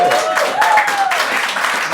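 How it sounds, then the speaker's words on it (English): An audience breaks into a loud round of applause at a talk event, with a voice speaking over the steady clapping. "Let's give her a round of applause, please."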